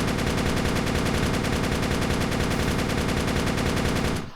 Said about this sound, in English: you cannot really use this machine gun in any comfortable way